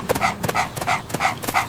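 Cartoon farm dog barks five times in an even, bouncy rhythm, each woof bright and close, with no talk over it.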